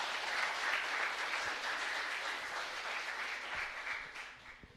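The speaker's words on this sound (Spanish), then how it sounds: "Fuerte los aplausos al coro" Sustained applause from a church congregation for the choir after Mass at a chapel, a dense steady wash of clapping that slowly fades toward the end, with no talk over it.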